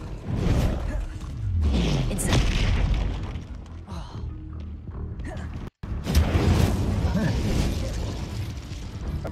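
Confringo spell blasts go off in Hogwarts Legacy: loud booming bursts with whooshing tails, a brief dropout midway, then more rumbling impacts.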